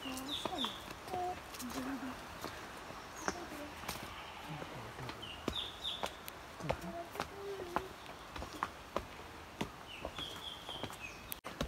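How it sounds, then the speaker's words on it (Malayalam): Birds calling in deep jungle surrounded by coffee plantations: many short chirps, whistles and trills, scattered near and far over quiet background ambience, with occasional sharp clicks. "ശരിക്കും നേച്ചറിലോട്ട് ഇഴുകി ചേരുന്ന രീതിയിൽ കിളികളുടെ ശബ്ദം"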